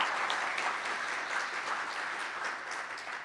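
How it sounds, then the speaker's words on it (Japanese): Sustained audience applause for three panelists at an environmental conference in Munakata, dense even clapping filling the hall with little voice over it. "どうぞ皆様お三方に大きな拍手をお 送りください"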